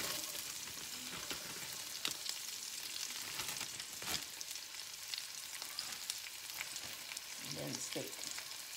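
Peppers and onions fry in oil for steak and chicken fajitas, a faint, steady sizzle with scattered sharp stirring clicks and scrapes.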